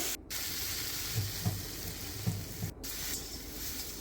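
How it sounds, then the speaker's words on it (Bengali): Taro stolons and potatoes frying together in a wok for a dry fish dish, with a steady broadband sizzle throughout and a few soft stirring knocks, close and continuous with no talking. "এখন দিয়ে দেবো সেদ্ধ করে লতিগুলো, দিয়ে একসঙ্গে ভালো করে লাল লাল করে ভেজে নেব।"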